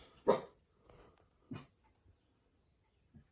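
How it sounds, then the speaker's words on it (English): A dog barks a few times in short, separated yelps, fairly close and otherwise quiet between barks. "Stop barking. Quiet."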